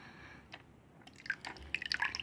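Liquid poured out of a container, heard as a short run of dripping and splashing that starts faint and grows louder and denser toward the end, with no talk over it.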